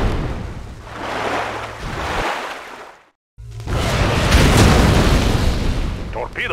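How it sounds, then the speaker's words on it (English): A submarine firing torpedoes in the video game Red Alert 2, heard as a loud whooshing launch with heavy underwater rumble, a brief silent gap, then a second sustained surging rush mixed with game sounds and brief voice lines. "Torpedoes out."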